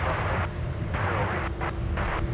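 Airliner taking off from runway 25 left at Anchorage airport, a steady broadband engine roar sustained throughout with brief interruptions, moderately loud and continuous.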